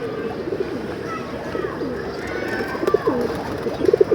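Pigeons coo nearby in soft repeated rolling calls that grow more frequent toward the end, over a faint steady outdoor background.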